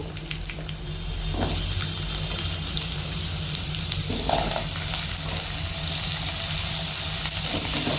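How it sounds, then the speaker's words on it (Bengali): Potatoes and black cumin seeds fry in hot oil, giving a steady close sizzle and crackle with a few stirring knocks and no talking. "এবার ওই তেলের মধ্যে দিয়ে দিল হাফ টিস্পুন মতো কালো জিরে, দিয়ে দিচ্ছে এবার ওর মধ্যে আলু"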